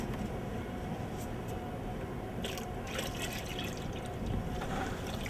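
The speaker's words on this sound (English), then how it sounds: "Let's go ahead and pour the water in now." Water pours and trickles into a plastic test bucket holding a sump pump, a soft, continuous splashing and dribbling against a low background rumble.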